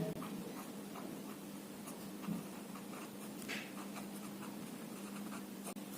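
Soft, faint scratching strokes of writing on a board during a math lesson about a circle's radius, short irregular marks over a quiet room hum with no speech.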